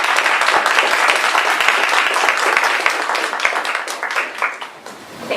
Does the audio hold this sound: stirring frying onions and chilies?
no